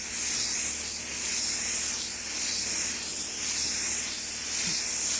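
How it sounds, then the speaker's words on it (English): A pressure sprayer regulated to a 45 psi inlet hisses in a steady, continuous wide spray close by, with slight pulsing swells and no talking. "so this gives me a wider spray, but I'm trying to keep the overspray down"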